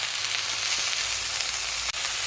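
Drumstick leaves frying in a pan while being stirred continuously, a steady close hiss and sizzle with a faint scrape near the end.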